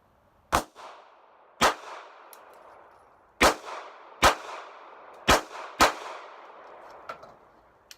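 Six sharp gunshots from a Smith and Wesson BodyGuard BG380 pistol firing MaxxTech rounds at a range, loud and close, spaced irregularly with a ringing decay after each, the last shot fainter.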